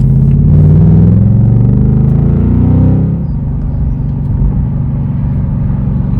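A Ford Mustang GT California Special 60th Anniversary Convertible roars loudly and close by. Its V8 exhaust rumbles heavily and then eases into a steady, lower drone as the car cruises.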